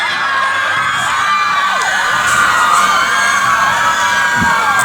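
A crowd of cadets cheers, whoops and yells at a big-time wrestling event, a loud, continuous roar of many voices throughout.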